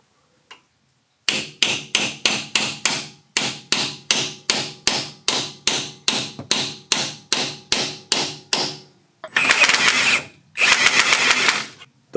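About twenty sharp, evenly spaced hammer blows drive a ball joint down into a Ford F250 or Excursion truck knuckle, followed by two longer bursts of rattling impact noise, loud and close.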